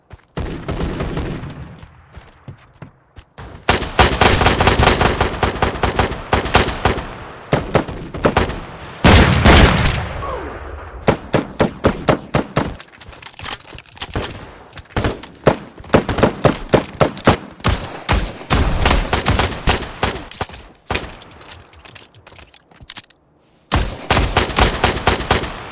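Shotguns fire in a multiplayer shooter game, with loud, sharp, repeated blasts coming in rapid clusters and a few brief pauses over about twenty-five seconds.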